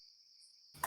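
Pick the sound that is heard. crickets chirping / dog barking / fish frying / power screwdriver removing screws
crickets chirping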